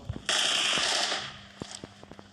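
Gunfire in the mobile game PUBG Mobile, heard as a close, loud burst of rapid automatic shots lasting about a second, followed by a few faint scattered clicks and taps.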